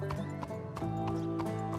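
Horse hooves clip-clop with a brief whinny in Red Dead Redemption 2, the steady game-world hoofbeats running over a continuous tonal background, close and moderately loud.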